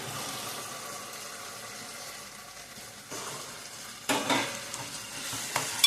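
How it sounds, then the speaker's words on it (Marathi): Tomatoes frying in biryani masala for a soybean dum biryani, a soft steady sizzle at first, then louder scraping stirs and crackling in the later seconds, nearby and without talk. "हा मसाला जळून घ्यायचा आपल्याला फ्राय करायचा मस्तपैकी"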